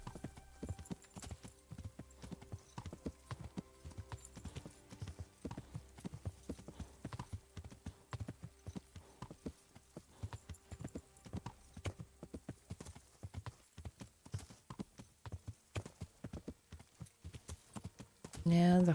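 A horse in the medieval video game Kingdom Come trots with a steady, rapid clip-clop of hooves that runs the whole way through. A brief whinny comes near the end, and a voice can be heard faintly in places.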